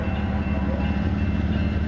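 Westbound freight train on the BNSF/MRL line in Montana approaching with a low, steady rumble and rolling rail noise, fairly loud and continuous over a short stretch.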